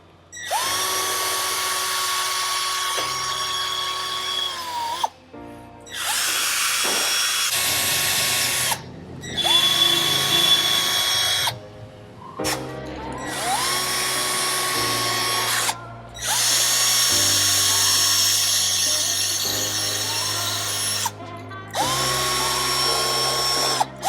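A power drill fitted with a small buffing pad polishes a Royal Enfield 650 twin engine, whining loudly and steadily in several long bursts with brief pauses between them.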